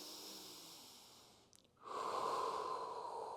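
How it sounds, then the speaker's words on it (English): Deep, slow breathing during a low-back and lat stretch in a pre-game activation routine, a soft airy inhale giving way to a louder, sustained exhale close to the mic. "We're gonna do 2 deep breaths like that."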